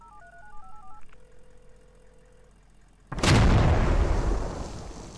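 Phone dialing tones in the military shooter SQUAD, a quick run of beeping keypad notes followed by a long steady tone, then a sudden loud blast and rumbling roar take over.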